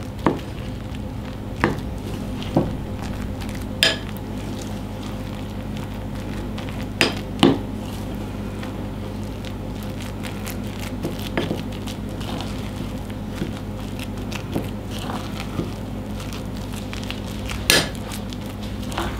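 Tapioca batter being stirred in a bowl, giving a steady soft scraping and squishing with repeated sharp clinks of utensil against the bowl, close and moderately loud, with no talk.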